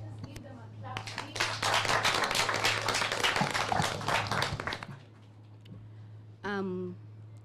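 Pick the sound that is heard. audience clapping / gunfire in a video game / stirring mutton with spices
audience clapping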